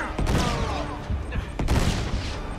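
Grenade blasts in Uncharted 3 gunfight combat, a few heavy booming thumps spaced across a dense, noisy firefight with scattered gunshots.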